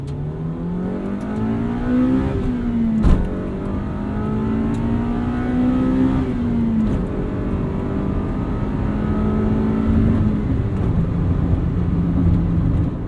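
A golden-era Honda Civic Si accelerates hard through the gears, its engine note climbing, dropping briefly at each of several quick shifts, then rising again, heard steadily from inside the car.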